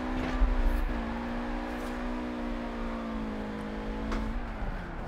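A car engine in Forza Horizon 4 holds a steady, droning high rev while drifting through city streets, loud and continuous with slight pitch wobbles and faint tire noise.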